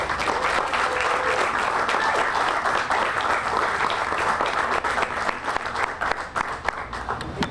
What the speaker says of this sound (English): Please join me in giving our honorees a well-deserved round of applause.